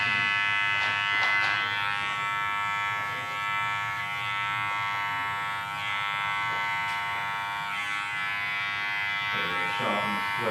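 An electric trimmer hums steadily and close while a barber squares up a beard during a low skin fade, and faint voices are heard underneath.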